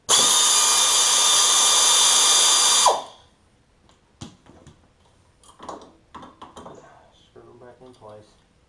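A power tool, probably an impact driver, runs loud and steady for about three seconds, removing 10 mm bolts from the brake line of a Yamaha Kodiak 700 ATV. It then stops abruptly, leaving faint clicks and soft shop noises with brief speech.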